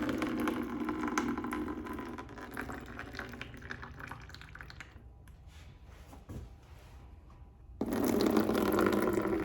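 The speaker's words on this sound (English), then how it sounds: "I pour the excess water off in there." Excess water poured off garden soil blocks into a bucket, a steady trickling and splashing stream for most of the stretch, thinning to quiet dribbles before a louder gush returns at the end.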